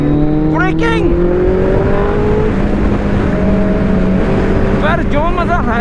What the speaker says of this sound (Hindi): मैं नितिन भाई की हयाबुसा चला रहा हूँ